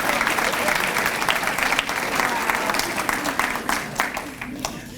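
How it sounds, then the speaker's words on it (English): Sustained applause from a large audience honoring an award recipient at a school awards ceremony, dense and loud, rolling on evenly before easing slightly toward the close. "A round of applause, Sarah Starnes."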